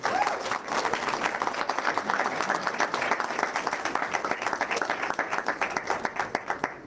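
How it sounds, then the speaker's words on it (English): An audience at a board of education meeting applauding steadily, dense clapping that holds throughout and thins slightly toward the end into more distinct individual claps. "Congratulations, big round of applause."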